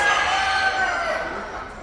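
Orpington chickens at a poultry show calling with drawn-out clucking and crowing tones, fairly close and steady for a couple of seconds.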